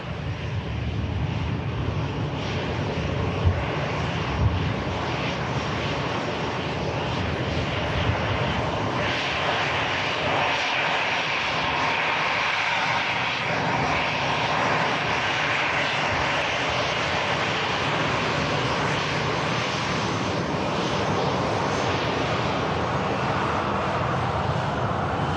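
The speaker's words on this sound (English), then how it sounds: "And here's EasyJet that's just arrived in." An EasyJet airliner that has just landed rumbles with a steady, moderately loud jet engine drone and broad hiss that holds evenly for the whole stretch, with no voices over it.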